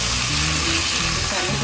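A spoonful of homemade cumin seeds sizzles in hot oil with a steady, loud crackling hiss for a moment.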